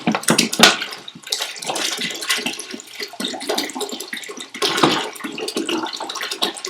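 Water from a pump returning into a bucket, a steady broadband splashing and trickling stream that fluctuates in strength throughout, close and fairly loud with no voices.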